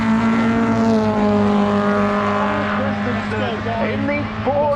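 A Ford Thunderbird race car competes in the St Mary's Trophy at Goodwood Revival, a loud steady engine drone with rising and falling pitch and crowd noise, under a commentator's voice.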